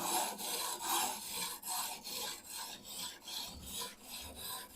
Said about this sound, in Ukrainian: Пробуємо точити. Коротше, точиться отак. Е, Зараз я наточу.